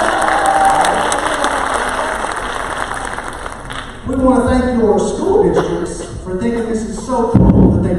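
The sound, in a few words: audience applause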